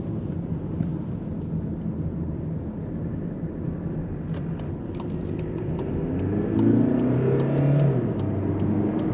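Volkswagen T-Roc 2.0 TDI diesel car with 150 horsepower accelerating to overtake, with a steady low engine drone and road rumble that swells near the end, heard from inside the cabin.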